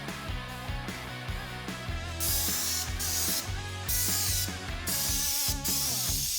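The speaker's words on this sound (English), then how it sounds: "You can apply the sealant even more easily with the Underbody sealant gun." An underbody sealant spray gun hisses in loud bursts, coating a car underbody against rust, over a busy musical backing track, the spraying starting and stopping a few times.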